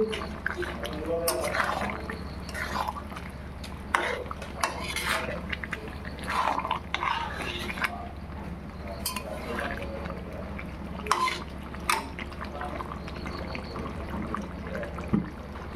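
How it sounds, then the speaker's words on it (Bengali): Pork curry seasoned with garam masala is stirred in a pan, making soft scrapes and light metallic clinks in an irregular rhythm that stay fairly quiet against a steady background hum. "নেড়ে নেব।"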